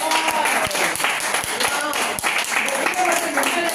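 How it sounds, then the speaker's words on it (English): Dense applause from the audience at a hospital surgeon's retirement function, steady clapping throughout with a few sharper claps standing out. "Applaud to Vatri sisters."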